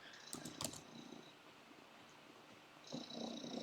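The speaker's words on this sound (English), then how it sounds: "He's purring freaking loud." A pet cat creature in a video game purrs in quiet, rough bursts. The rumbling swells at the start and again near the end, and softer ambience fills the gap between.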